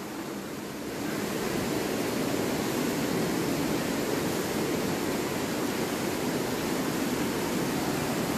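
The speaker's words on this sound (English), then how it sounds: "Love the sound of rushing water, don't you?" Steady rushing water beneath the West Hill Covered Bridge forms a continuous broadband roar that swells in after the first second and holds loud and even, with no voices over it.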